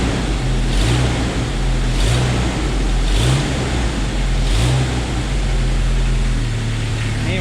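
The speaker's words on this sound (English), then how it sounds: "Engine is smooth as silk." A 1997 Jeep Wrangler with the 2.5L four-cylinder engine idles steadily up close, a loud, even low rumble with a faint ticking from under the valve cover, no talking.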